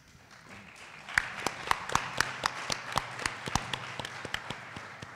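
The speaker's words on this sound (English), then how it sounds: "Please give our distinguished panel another round of applause." Audience applause for a panel discussion at a public event, steady scattered clapping rising after a quiet start and continuing evenly with crisp individual claps, moderately near.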